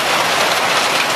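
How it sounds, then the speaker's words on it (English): Heavy rain mixed with hail pours down and spills over the edges of a gutter, a dense, steady roar of water with no gaps, loud and close throughout. "That's how hard it's raining and hailing right now. It's just spilling over the edges."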